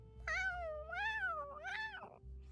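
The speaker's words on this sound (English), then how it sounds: "For a kitty, meow means they are much happier" A cat in the game Genshin Impact meows three times in drawn-out, wavering calls, close and clear over faint background music.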